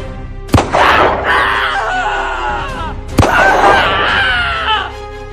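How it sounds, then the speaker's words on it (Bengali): Two gunshots ring out in a horror-story sound effect, each a sharp, loud crack followed by a long, harsh, scream-like tail, spaced a few seconds apart. "গ্রামে ঢুকে দুজনকে দুটো গুলি করে মেরে ফেলে।"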